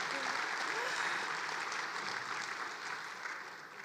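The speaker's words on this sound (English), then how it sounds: "Let's get a clap on that." Conference audience at a Housing California plenary session claps together, a soft, dense, distant wash of applause that fades slightly toward the end with no talk over it.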